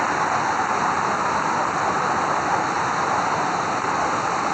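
A monsoon waterfall on a trek in Maharashtra makes a steady, loud rush of flowing water, constant and broadband, with no voices and no change in intensity.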